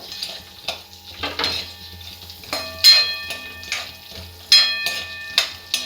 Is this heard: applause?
no